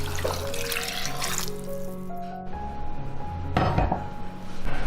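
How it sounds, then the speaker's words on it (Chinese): Water pours steadily from a tap into a soup pot holding durian, chicken, lean pork and red dates, a continuous loud rushing splash with a brief clink of the pot, close and without talk. "最后加入适量清水"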